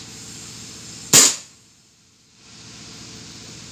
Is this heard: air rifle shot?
yes